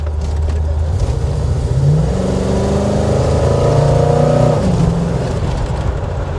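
A 1955 Chevy with a swapped-in engine and a 4-barrel carburetor runs nearby with a deep, loud rumbling drone, revving up sharply and holding higher before dropping back to a lower idle.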